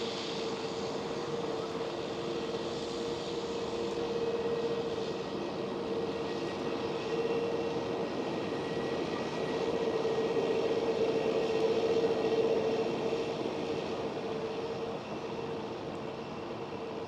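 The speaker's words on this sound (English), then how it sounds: "German Airways E190 in the new livery." A German Airways Embraer E190 jet airliner at Amsterdam Schiphol gives a steady, distant engine roar with a faint whine, holding level and swelling slightly near the end, with no talking.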